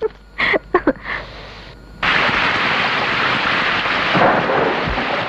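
A heavy thunderstorm with rain begins abruptly after a few brief knocks, settling into a loud, continuous roar of downpour with rumbling thunder underneath.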